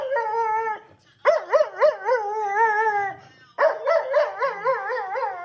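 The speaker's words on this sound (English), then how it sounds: "a video of this dog going crazy" A dog howls in long, wavering, siren-like wails, three drawn-out bouts with short breaks between them, loud and close, played back from a recording with no talk over it.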